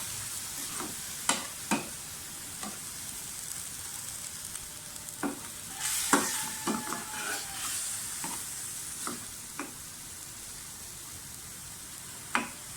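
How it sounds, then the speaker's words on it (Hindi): Minced meat frying with cumin powder in a pan, a low steady sizzle broken by repeated sharp scrapes and clacks of a spatula stirring at irregular intervals, close and clear with no voices. "ज़ीरा पाउडर, ये सब डालकर अच्छी तरह से भूनें।"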